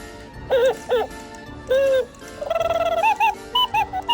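Several short electronic hooting and trilling owl calls from an interactive Harry Potter Hedwig toy owl, triggered by touching its beak, in bursts with brief pauses, fairly loud and close.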